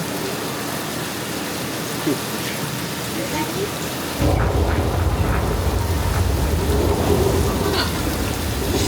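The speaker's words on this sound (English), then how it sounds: "we've got some rain effects going on as well right now" Steady heavy simulated rain hisses throughout on a Universal Studios tram tour set, and partway through a deep low rumble swells in and continues like distant thunder under the downpour.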